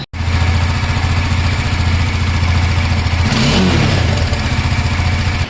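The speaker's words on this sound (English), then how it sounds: "I'll make you guys listen to the exhaust note in a quieter environment" A Bajaj Dominar motorcycle exhaust burbles steadily at idle, then rises in a short rev around the middle before settling back to its throaty idle.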